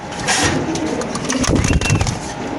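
Kashmiri pigeons coo close by in short soft bursts, with a faint engine hum running underneath.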